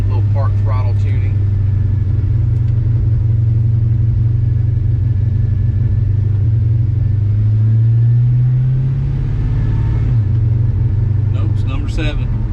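A V8 LS-powered car drives at part throttle during street tuning, its deep steady engine rumble loud and continuous throughout, swelling slightly midway, with brief voices over it near the start and end.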